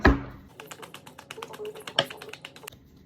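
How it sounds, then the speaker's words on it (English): A quick, dense flurry of crisp paper-like clicks, like cards being riffled together, starting with a sharp tap and running for a few seconds. "I'm gonna shuffle again, and Spirit knows."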